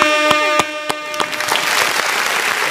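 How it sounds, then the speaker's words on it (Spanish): Audience applause breaks out on a Spanish-language entertainment show, rising as a sustained wash of clapping after a brief musical tone with rhythmic hits at the start. "Un aplauso."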